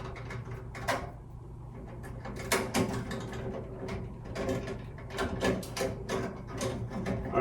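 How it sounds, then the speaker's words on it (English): Twist-on wire nuts are unscrewed from the wires of an older kitchen ceiling light circuit, giving off faint, irregular plasticky clicks and small ratcheting scrapes up close. "then I take the wire nuts and undo those"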